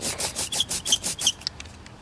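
An ink roller overloaded with sticky ink rolls back and forth in quick repeated strokes, each pass giving a crackly, Velcro-like rasp, close and fairly quiet.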